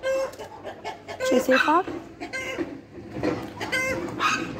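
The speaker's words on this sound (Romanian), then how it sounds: "Mai taci, mă, cocoșule" A large rooster among farm fowl clucking and calling in short, choppy bursts close by, with other birds and animals around and someone speaking over the noise.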